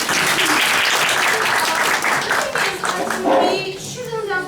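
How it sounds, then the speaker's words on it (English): A classroom audience at a debate claps together in a dense, loud burst of applause that holds steady for several seconds, then thins and fades out as talking starts. "We shouldn't applaud after every speech"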